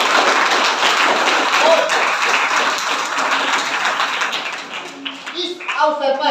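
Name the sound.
audience applause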